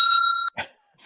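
A cheap $4.50 hand bell rings as a presentation time warning at a conference, giving a bright, sustained metallic ring for about half a second followed by short scuffling noises.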